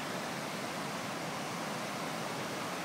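A mountain stream pouring from a hole in the rock beside a road near Tumbler Ridge makes a steady, full rushing hiss, continuous and close, with no voices over it.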